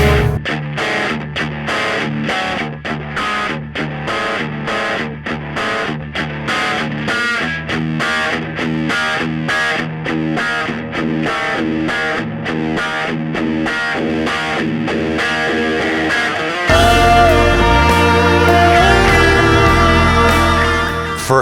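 A heavily distorted electric guitar driven through an amplifier plays a loud, rhythmic riff of chugging chords, then breaks into a sustained, ringing section near the end, with no talking.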